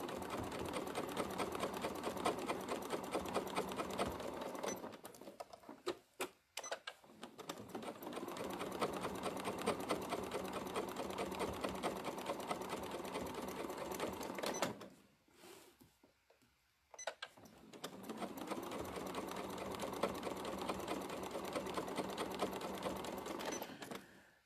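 Sewing machine stitching free motion quilting, a steady fast mechanical whir with needle chatter running in long bursts, stopping briefly around the middle and again later before resuming.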